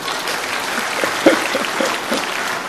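An audience at a pastor's lecture breaks into steady applause, a dense wash of clapping that holds evenly for a few seconds without a voice over it.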